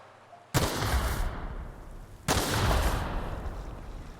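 Gunfire in The Outer Worlds, two heavy blasts a couple of seconds apart, each with a sharp attack and a long rumbling tail, loud and close with no talk.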